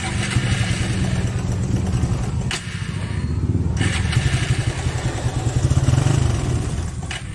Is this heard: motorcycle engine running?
yes